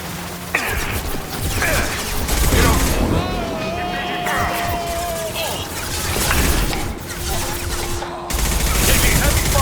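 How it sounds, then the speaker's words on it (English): Rapid gunfire in Mass Effect 2 during a prison lockdown firefight, bursts of shots and crashing impacts layered with effects and a drawn-out whine, loud and close, with voices speaking over the combat. "Taking heavy fire!"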